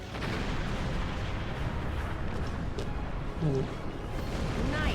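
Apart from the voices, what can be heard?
starship weapons fire in Star Trek Online video game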